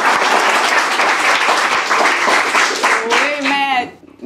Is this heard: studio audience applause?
yes